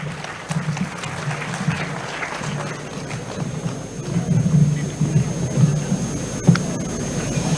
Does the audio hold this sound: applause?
yes